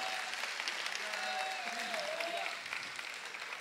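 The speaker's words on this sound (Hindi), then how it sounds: "एक बार हाथ उठा के ताली बजा के आप बताइएगा" Audience at a Hindi poetry recital applauding together, a steady wash of clapping that holds for several seconds and then eases slightly, with a faint tonal voice or instrument sliding through underneath.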